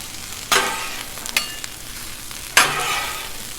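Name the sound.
onions tossed and frying on a Blackstone griddle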